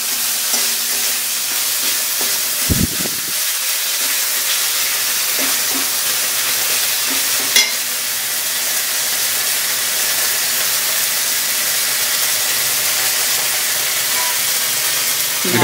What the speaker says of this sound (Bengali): আদা, পেঁয়াজ, রসুন, কাঁচা লঙ্কা, গোলমরিচ বাটা একসঙ্গে আমি